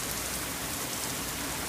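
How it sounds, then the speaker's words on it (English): Steady rain falls outdoors in a dense, even hiss of drops hitting surfaces, loud and close throughout, with no voices. "we're getting too much rain on us"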